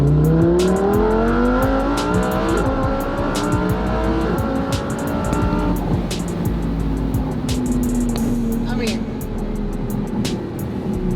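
A twin-turbo car accelerates hard, its engine note climbing steadily in pitch, then easing and building again, loud and close throughout.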